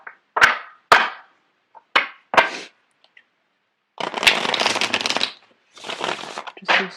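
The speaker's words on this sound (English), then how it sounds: "I'm going to get the cards shuffled out." Tarot cards are shuffled in short bursts, a few quick crisp riffles and taps, then a longer rustling shuffle and a final flurry, close and clear with no talking.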